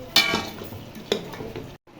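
Spiced goat trotters with garam masala frying in a pot, a soft sizzle running underneath as a spoon scrapes and clinks against the metal in a few quick strokes, then a brief silence.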